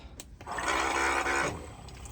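A small water pump runs water into a 5-gallon jug in a DIY camper van, producing a brief, fairly close motorized whirring buzz that lasts about a second before cutting off, with no voices.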